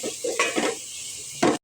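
Onions frying and being stirred in a pan for pulao, with a utensil scraping and clinking against the metal in irregular strokes over a steady sizzle. The sounds are close and moderately loud, and nobody speaks.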